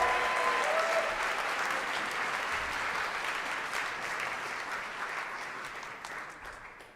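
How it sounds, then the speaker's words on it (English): An audience at a New Year's Day marathon of live readings and performances gives a round of applause, a dense wash of clapping that starts strong and slowly tapers over several seconds. "Let's give another round of applause to C.A. Conrad."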